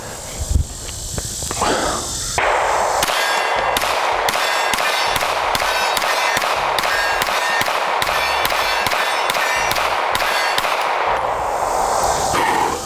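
Canik TP9 SF pistol fired with iron sights, a long run of sharp, evenly spaced loud shots in quick succession, close and ringing, with no talk over them.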